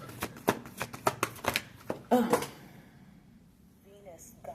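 Oracle cards slip out, flip over and land on a floor in a quick run of soft slaps and rustling clatter, close by, followed by quieter moments with a brief voice.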